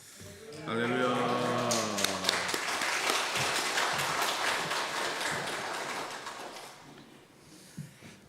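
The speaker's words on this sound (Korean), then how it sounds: "박수로 크게 환영해 주시면 고맙겠습니다" A church congregation at a Sunday service at Oakland United Methodist Church bursts into sustained applause welcoming a visiting pastor, swelling quickly and fading gradually over several seconds, with a voice calling out at the start.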